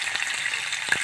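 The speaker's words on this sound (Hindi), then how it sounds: "ये पॉट के अंदर हमने मक्खन को गर्म करना है" Butter heating in a pot for a winter hot milk, giving a soft, steady close sizzle and crackle with a few small stirring knocks near the end.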